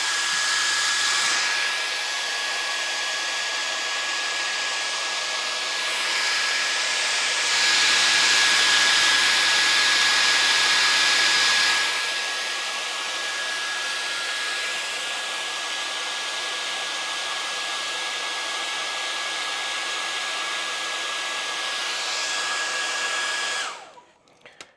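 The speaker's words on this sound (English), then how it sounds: "Now, again, the hair dryer." Hair dryer blowing over freshly painted N scale model vehicles, a loud steady whooshing hum with a high whine, swelling briefly partway through, then cutting off abruptly at the end.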